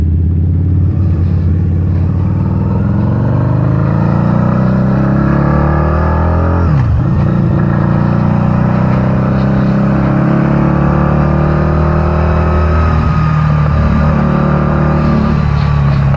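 A 2012 Harley-Davidson V-Rod Muscle 10th Anniversary with its Revolution engine, heard loud and close while riding, a continuous deep engine drone that dips briefly as the revs shift and then pulls on steadily.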